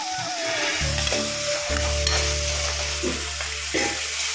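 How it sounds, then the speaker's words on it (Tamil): Onions sautéing in hot oil for egg curry, a loud, close, continuous sizzle with a few tonal hums and clinks from stirring in the pan, no voices. "இதில் ஆனியன் சேர்த்துட்டு ஆனியன் நல்லா வதங்கணும்னு பார்க்கலாம்"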